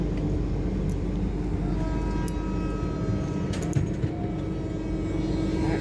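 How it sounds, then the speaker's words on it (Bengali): A train runs past while the listener rides aboard another moving train, a steady loud rumble of wheels and carriages filling the whole stretch with no speech. "ওই যে ট্রেনটা"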